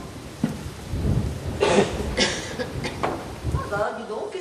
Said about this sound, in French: Tu n'entends pas l'orage?